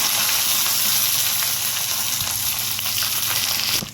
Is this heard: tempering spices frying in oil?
yes